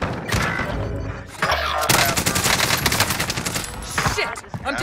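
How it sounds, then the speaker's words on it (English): Rapid bursts of automatic gunfire in a Call of Duty Warzone match, dense and continuous with loud overlapping shots, a brief lull, then renewed firing. "Shit! I'm taking fire!"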